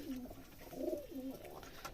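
Pigeons coo in soft, low, rolling phrases, one call swelling then fading and others following close by over a steady background.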